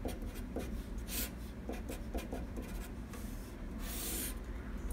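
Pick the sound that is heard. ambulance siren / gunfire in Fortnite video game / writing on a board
writing on a board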